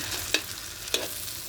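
Tortang talong, a Filipino eggplant omelette, frying in a pan, with a constant soft sizzle and two light scraping taps of a utensil, no voices.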